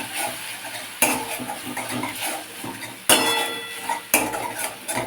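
Tomato paste with spices stirred and fried in a pan for a spiced okra dish, with a steady sizzle, scraping spoon strokes and sharp clinks of utensil against the pan.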